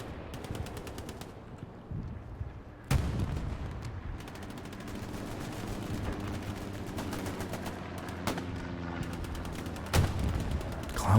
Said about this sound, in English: We do have a strafing run, I believe, coming in from Chimera.